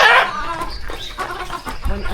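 Roosters at a farm, with a close, loud crowing burst at the start followed by softer clucking and fowl calls, while other birds chatter faintly in the background.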